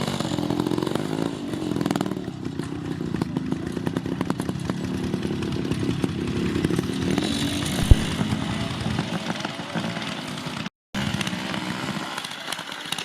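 A Bantam trials motorcycle engine rasping steadily close by at an event, a loud buzzing two-stroke drone that holds throughout with slight revving, briefly cut by a short dropout near the end.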